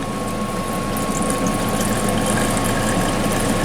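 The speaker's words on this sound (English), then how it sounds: "And so you pour in a cup of cold water." Cold water with ice cubes poured into a butter churn to rinse fresh butter, a steady wet splashing and gurgling that stays loud and continuous throughout, with no voices.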